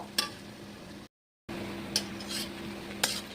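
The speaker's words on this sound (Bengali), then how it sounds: "পেঁয়াজটা আমি ভালো করে ভেজে নেব" Onions sizzle softly as they fry in a pan, with three sharp scrapes of a utensil stirring, broken by a brief silent gap.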